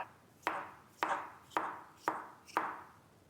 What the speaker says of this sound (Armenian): թարմը սիրուն վարունգ օգտագործեք։ Այսպիսի կտորներ արեք